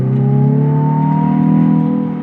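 Hyundai i20N engine droning steadily through a corner, a loud sustained tone with slowly rising pitch, heard from inside the car with no talking.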